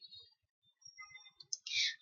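A computer mouse clicks while navigating an e-learning site, with a few soft, sparse clicks close by in a quiet room and one sharper burst near the end.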